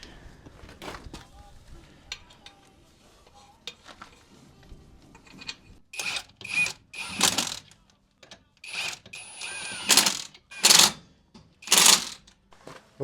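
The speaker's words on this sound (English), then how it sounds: "He's going to go ahead and bolt it down." Metal clanks and quick ratcheting bursts come from work on a 1963 Chevy ranch truck as a part is bolted down, with scattered tool clicks that grow louder and more frequent toward the end.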